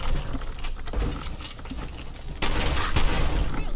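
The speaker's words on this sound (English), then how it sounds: "I didn't mean to shoot you if I did." Bursts of gunfire in the video game Fallout 4 crackle in a rapid, dense clatter of sharp shots, with a louder volley in the second half, fairly close and without talk.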